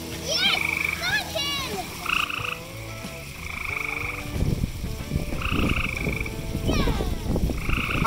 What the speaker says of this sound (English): Not like the others, that's a toad.